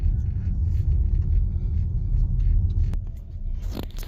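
A car engine rumbles low and steady from inside the vehicle as it prepares to drive off along a village road, with a brief click and shift near the end.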